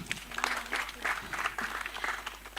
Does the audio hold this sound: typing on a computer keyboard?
no